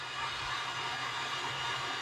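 Heat gun blowing hot air at arm's length while curing custom paint on a crow figure, a steady, close, broadband hiss with low rumble that holds even throughout.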